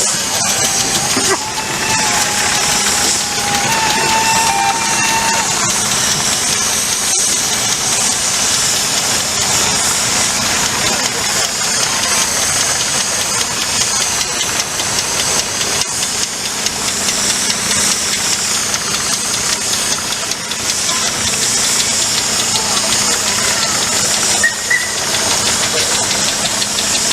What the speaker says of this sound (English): There's the Burrell Sherman's engine, Majestic to 7.